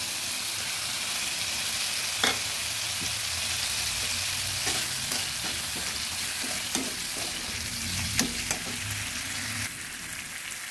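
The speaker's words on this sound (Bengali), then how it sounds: "আদা বাটা, জিরে পাউডার, ধনে পাউডার আর শুকনো লঙ্কাটা একটু ভাজা হয়ে আসছে" Ginger paste, cumin and coriander powder and dried chilli frying in a pan for banana-flower chops, a steady close sizzle with occasional stirring knocks and scrapes, no voices.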